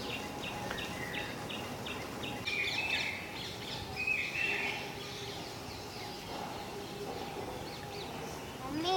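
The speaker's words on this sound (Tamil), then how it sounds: "ஒரு குருவியோட சத்தம்" A sparrow chirping outdoors in a home garden, repeated short tweets in bursts over a few seconds against faint background noise, fairly distant and light.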